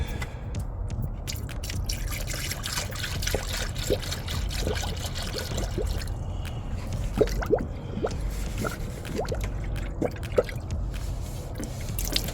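Antifreeze is poured during brake work on a Honda Element and spills, making steady dribbling and dripping with scattered splashes over a low background hum, close by.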